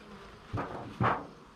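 Honeybees buzz around beehives, with two swelling bursts of buzzing as insects pass near, over a steady low hum of the apiary outdoors.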